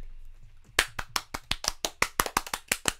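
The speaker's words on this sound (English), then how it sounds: "Round of applause for everyone." A single person claps about a dozen times in an even, brisk rhythm at close range after an online quiz game round, each clap sharp and distinct against a quiet background.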